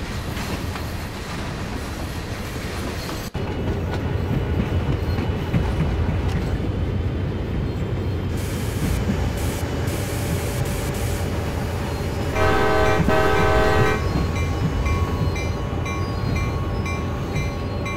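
A CSX heavy freight train rumbles along in Train Sim World, a continuous loud low roar of engine and rolling cars with wheel clatter, some metallic ringing and a brief horn-like tone partway through.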